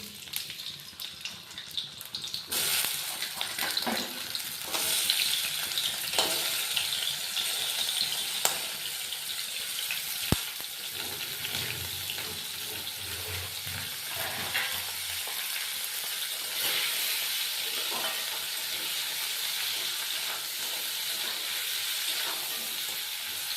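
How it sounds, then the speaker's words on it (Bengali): Crabs rubbed with salt, turmeric and chili fry in hot oil in a wok, giving a steady, loud sizzle with occasional spits and clatters of stirring, and no voices. "এবার আমি নুন হলুদ আর লঙ্কা দিয়ে মাখিয়ে রাখা কাঁকড়াগুলো একে একে ভেজে নেব।"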